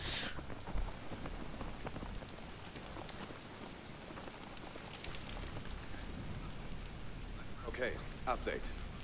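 Steady rain falls in the video game Battlefield 3, a constant dense hiss of drops throughout, with a voice speaking faintly over it.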